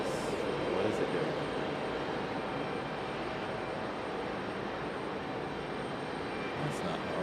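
A Boeing 777 taxiing at Raleigh-Durham International Airport, a steady broad jet-engine rumble and hiss that holds at an even level throughout, heard from a distance with no clear voices.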